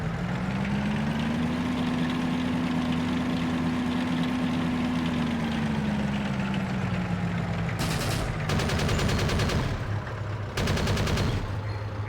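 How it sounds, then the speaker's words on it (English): In the Forgotten Hope 2 video game, a T60 tank engine drones steadily at close range, then its machine gun fires two loud rapid bursts near the end. "this is a T60 tank"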